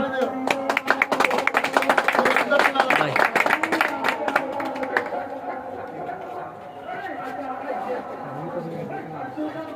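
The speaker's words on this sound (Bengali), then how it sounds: "সবাই আমরা হাততালি দিব" A crowd claps at the prize ceremony of a 35-kilometre pigeon racing tournament, dense and close for about five seconds before fading, with chatter and a talking voice continuing underneath.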